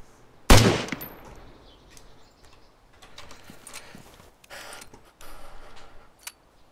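Gunfire in the video game DayZ: one loud, close shot rings out sharply near the start, followed by fainter scattered pops and rustling activity over the next several seconds.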